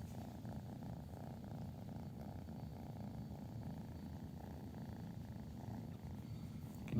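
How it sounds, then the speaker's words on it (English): A kitten purrs steadily while being petted, a soft, close, continuous rumbling throb with no voices. "He's got his purr going, too."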